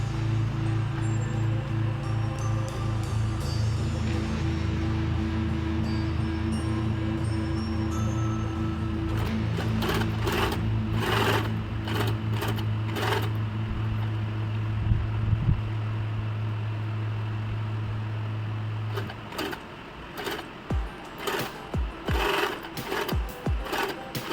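A sewing machine runs steadily for about nineteen seconds, humming as it stitches the neckline of a silk skirt-and-blouse outfit, then stops, leaving scattered clicks and fabric handling sounds nearby.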